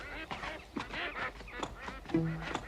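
Cartoon goose honking in a cave setting, a couple of short nasal honks rising near the end over busy character chatter and background music.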